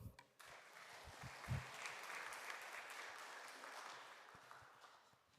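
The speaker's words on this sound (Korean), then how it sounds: "우리 박수 한번" Congregation at a Won Buddhist temple service in Korea applauding, a faint, sustained patter of many hands clapping that starts after a few brief sounds and fades slightly at the end.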